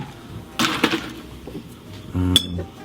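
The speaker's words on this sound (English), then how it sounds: "Add ice." Ice dropped into a cocktail shaker for an Asian pear mojito, giving a few close clinks and clattering rattles in separate bursts, with a bright final knock of ice against the tin.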